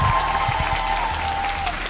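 A church congregation applauds together, a dense, steady wash of many hands clapping at close range throughout, with a sustained sung or organ-like tone running beneath.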